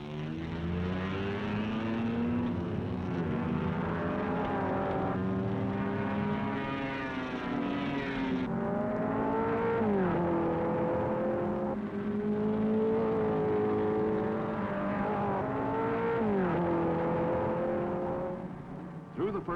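Race cars start the 1957 Sebring 12 Hours on the airport circuit, a pack of engines roaring and revving in a continuous loud rush with rising and falling pitch as cars pass, under someone narrating.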